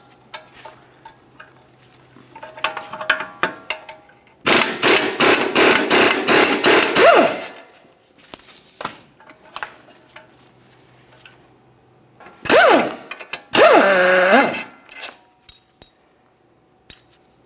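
An 18mm ratchet works the inboard nut on a rear suspension arm of a 2011-2021 Jeep Grand Cherokee: two close bursts of rapid metallic clicking stand out among scattered tool clinks and taps, with no talking.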